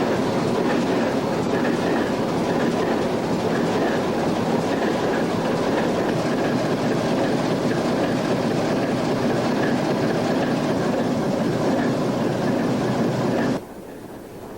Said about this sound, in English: the locomotive was started for the day's run